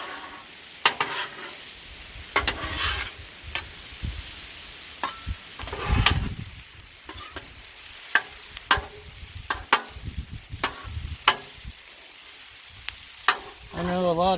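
Kielbasa and cabbage sizzle and fry on a Blackstone griddle, with a steady hiss broken by repeated sharp scraping and stirring strokes of a spatula at uneven intervals, close and fairly loud, with no talking.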